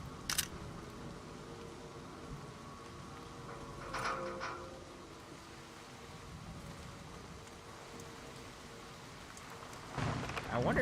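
Steady rain hisses through a video game storm scene, with a few sharp crackling bursts and a low rumble of thunder building near the end.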